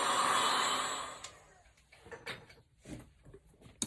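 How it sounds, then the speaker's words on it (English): A loud blowing whir of a heat gun drying paint runs for about a second and cuts off, followed by quiet clicks and handling noises. "I think I'll hit it with the heat gun for just a second"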